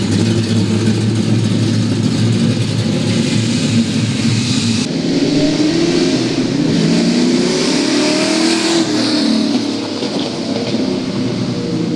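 Car engine revving and accelerating on a test drive after repair, loud and close, with rising and falling engine tones through several gear pulls and no talking.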